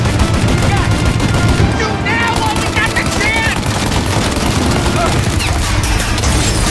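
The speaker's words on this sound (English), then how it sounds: "Shoot out their gun when there's a break in the fire!" Rapid gunfire crackles through a loud, close shootout in the video game Mafia Definitive Edition, the shots packed into dense bursts for the whole stretch, with voices briefly audible under the gunfire.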